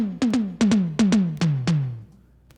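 Dry, soloed synthwave drums in Logic Pro with no reverb: a pattern of punchy kick and snare hits with pitched-down tails, about eight sharp beats in quick succession, then a quick stop.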